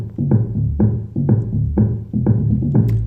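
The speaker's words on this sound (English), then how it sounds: "And just two instruments, kick and bass, sounds like this." Kick drum and sub bass play a steady groove together, with punchy, deep booming hits in a repeating rhythm about twice per second, loud and alone without any voice.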